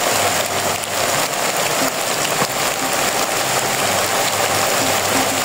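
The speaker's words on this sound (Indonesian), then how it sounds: "seperti inilah suasana hujan di rumah sendirian tengah hutan" Steady heavy rain pours down around a lone house deep in the forest, a dense, continuous hiss of drops on roofs and foliage that stays loud and even throughout.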